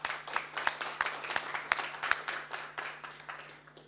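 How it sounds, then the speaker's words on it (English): Conference audience applause: a steady spatter of hand claps with a rhythmic pulse of louder beats, moderately distant, with a faint constant hum underneath. "Big clap, please."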